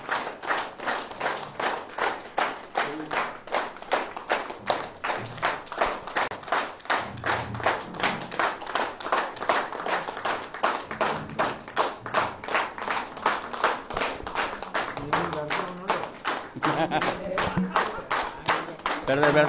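A crowd at an anniversary celebration with a vegetarian rally claps in a steady, rhythmic beat of roughly three claps per second, sustained throughout, with faint voices underneath.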